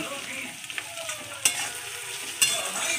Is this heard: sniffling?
no